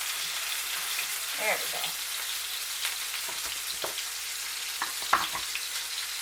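Sirloin steak sizzles steadily in a hot pan, a continuous hiss of frying with a few clinks and scrapes, while a voice speaks briefly partway through.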